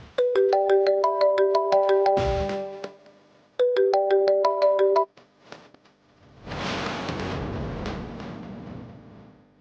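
A phone ringtone plays a repeating melodic pattern twice, loud and close, with a brief break between; afterward a rustling, noisy texture follows.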